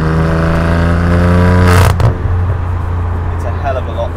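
A BMW F80 M3 with a QuickSilver exhaust and its valves open revs loud and close, a droning rise that cuts off abruptly into idle burble.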